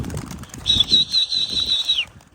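Bursts of flapping wings from tumbler pigeons taking off rise and fall close by, with a thin high whistle running through the middle of the flutter.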